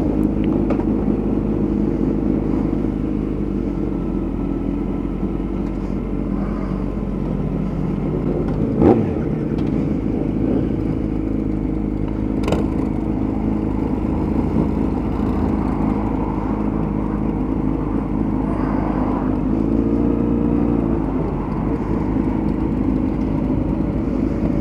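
Several motorcycles ride together at a first group meetup, their engines droning steadily and loudly throughout, with no talk.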